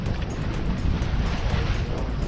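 Steady wind roars across the microphone aboard a singlehanded sailboat in the Juan de Fuca Strait during a December Force 5 breeze, loud and continuous with a low rumble of water beneath it.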